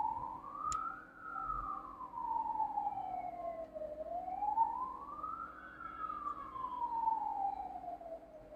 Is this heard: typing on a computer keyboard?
no